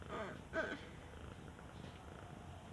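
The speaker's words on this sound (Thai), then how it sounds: "แมว" Cat purring softly up close, a low, rough rumble with a brief louder burst near the start, otherwise quiet and steady.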